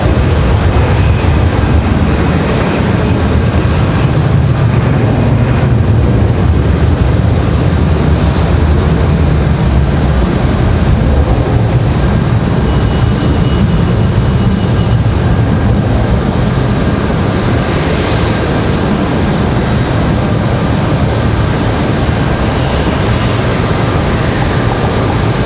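A Delta CRJ regional jet airliner at Raleigh-Durham International Airport gives off a loud, constant jet roar that fills the whole stretch without a break.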